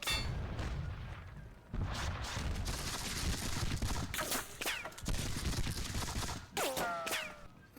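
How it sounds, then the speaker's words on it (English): Gunfire and artillery from a Seven Years War video game, at the Battle of Zorndorf. Dense volleys of musketry and booming cannon shots roll on continuously, with scattered sharp cracks and no speech. "Ugh, more guns."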